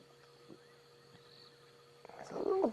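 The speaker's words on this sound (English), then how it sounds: "We can hear frogs and a fiery-necked nightjar in the background." Frogs calling in the bush at night near a lion feeding on a buffalo, a faint steady chorus that swells loud and close toward the end.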